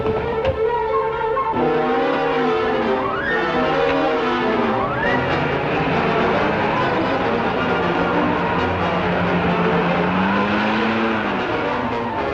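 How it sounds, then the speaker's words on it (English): A car revs and drives in a rough chase on a forest road in a 1960s drama, engine note loud and continuous with tire squeals and skids, under dense music and a few shouts. "Turn that car around. Keep away from that car."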